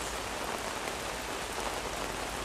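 Steady rain falls outside on an overcast English day during heavy wet weather, a dense continuous patter with no pauses and no voices.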